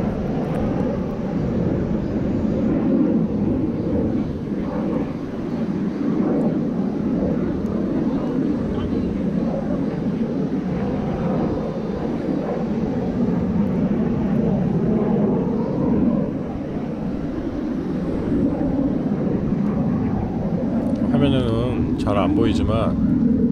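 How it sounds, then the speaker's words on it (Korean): Several airplanes perform at an air show above a paragliding field, a continuous low droning engine roar that stays steady throughout, with people talking over it. "에어쇼를 하고 있어요"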